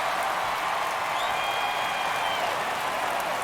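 A baseball crowd in MLB The Show 23, in a Chicago Cubs versus Pittsburgh Pirates game, keeps up a steady wash of cheering and applause that stays loud and even throughout.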